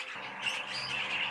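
A young bird chirps in thin, high, rapid calls while being held in the hand for ringing, close and fairly steady.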